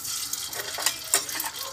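Oil sizzles in a pan for embutido, a short, even frying hiss broken by a few crackles and light clinks.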